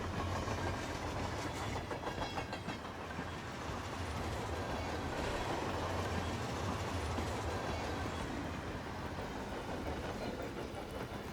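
Train in Hitman World of Assassination, a steady, loud rumble with rhythmic clickety-clack of wheels over rails, continuous throughout with no talk.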